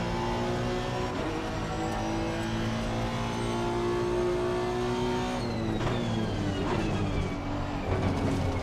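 A GT3 race car engine at Paul Ricard in Assetto Corsa Competizione: a loud, steady, close engine drone holding high revs, with the pitch sweeping through gear changes and other cars' engines mixing in toward the end.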